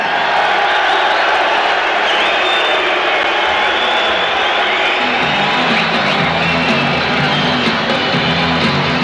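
Large boxing-arena crowd roars with sustained cheering, whoops and applause for undefeated Amsterdam boxer Alex Blanchard's ring entrance, a loud unbroken wall of noise with entrance music rising partway through.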